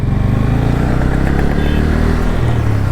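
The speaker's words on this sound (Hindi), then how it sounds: "यहाँ पर मैं उठाने की कोशिश करता हूँ तो बिल्कुल पीछे नहीं खींचेगी और एकदम तीर की तरह तुरंत रेस पकड़ लेगी" A Bajaj Pulsar N160 motorcycle with an under-square engine pulls away under acceleration, its engine droning loud and close with a steady pulsing note and some rattling, no talk.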